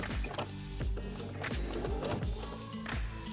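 A sewing machine runs a straight stitch along a bra, its needle thumping in a quick, regular mechanical rhythm in short close bursts.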